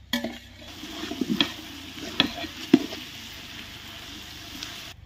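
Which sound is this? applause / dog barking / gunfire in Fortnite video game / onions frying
onions frying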